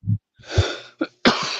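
A person's sneeze amid casual chatter in a hotel setting, a sharp burst with a quick intake and explosive release followed by short throat noises, close and fairly loud.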